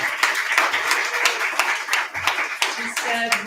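Audience applause for poet Danika at a Poets & Pints reading night, a steady patter of clapping hands across the whole stretch with some voices mixed in near the end.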